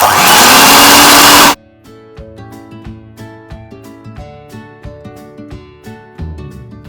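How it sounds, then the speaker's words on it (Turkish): A loud electric whirring from a hand mixer whisking instant coffee for dalgona coffee runs for about a second and a half, then stops abruptly, leaving gentle music playing on its own. "Sonra ise mikserle şöyle bir çırpıyoruz."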